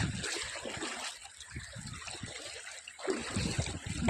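Footsteps wading through shallow river water, with steady trickling and splashing close by, broken by quieter gaps and a brief murmur of voice in the background.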